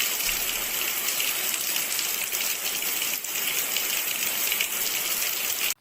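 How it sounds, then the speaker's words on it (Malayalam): Artificial rain from five rooftop sprinklers fed by a 1/2 HP motor on a house makes a steady, dense, hissing downpour, loud and continuous with no voices, cutting off abruptly at the end. "വീടിന്റെ മുകൾ ഭാഗത്തായി സ്ഥാപിച്ച 1/2 HP മോട്ടറും 5 സ്പ്രിംഗ്ലറുമാണ് കൃത്രിമ മഴയ്ക്ക് പിന്നിൽ."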